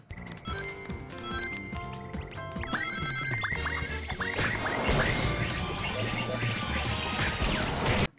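Werehog battle theme music from the video game Sonic Unleashed, a busy orchestral track with clanging percussion hits and brassy bell-like stabs that builds in intensity, playing alone throughout.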